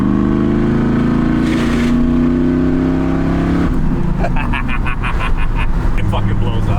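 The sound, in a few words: added engine revving sound effects of an LS1-swapped farm truck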